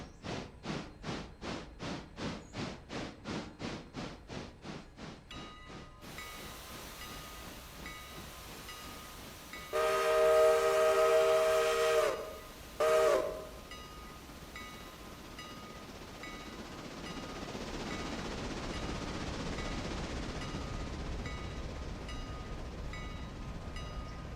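Passenger train in the Railroader video game: rhythmic steam chuffing at first, then a loud steady whistle blast followed by a short second toot, with the train rumbling and hissing on as it moves away.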